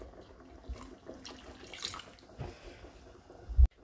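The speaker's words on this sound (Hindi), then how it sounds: "यहाँ पे हम पानी थोड़ा सा और डाल देंगे ताकि फिश अच्छी तरह से ढक जाए।" Water is poured into a wok of salmon fish curry in a home kitchen, giving a soft, intermittent trickle and splash. It is quiet and close, ending with a brief louder knock.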